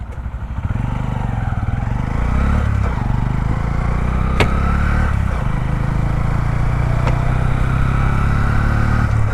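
A Honda CB125 Hornet commuter motorcycle engine starts close by and settles into a steady, loud idle, with a couple of sharp mechanical clicks along the way.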